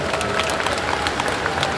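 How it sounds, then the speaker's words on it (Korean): A short burst of loud, close applause from a party convention crowd honouring the assembly chairman, dense clapping with a busy murmur of the crowd beneath it. "다시 한번 조정식 의장님께 큰 박수 부탁드립니다."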